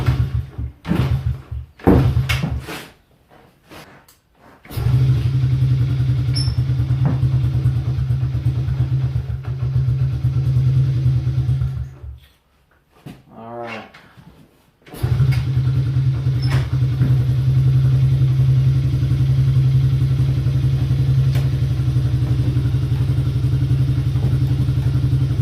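A Honda CRF50F dirt bike engine cranks over a few times, stalls, then catches and settles into a steady loud idle, running continuously close by.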